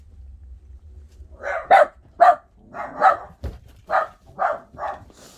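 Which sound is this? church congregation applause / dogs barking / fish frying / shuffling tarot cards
dogs barking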